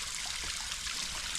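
Small waterfall trickling beside a nature trail, a faint, steady hiss of running water that continues evenly for a brief moment.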